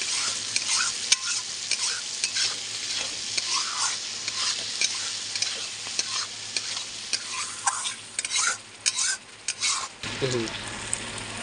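Chicken kosha being stir-fried with salt and spices in a pan, a sizzling fry broken by repeated scraping strokes of a spatula that grow rhythmic and louder toward the end, close by with no speech.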